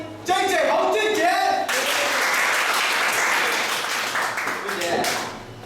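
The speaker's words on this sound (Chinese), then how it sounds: "让我们的掌声欢迎 JJ 洪俊杰" An audience at a trading seminar breaks into loud, sustained applause to welcome speaker JJ Hong, with an announcer's voice heard just before the clapping swells and fades.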